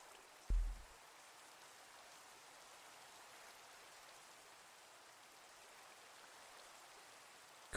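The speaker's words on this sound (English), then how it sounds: "it's raining and gross right now" Steady, even rain hiss from a video game scene at a stone bridge in the rain, quiet and continuous, with a soft low thump near the start and no voices.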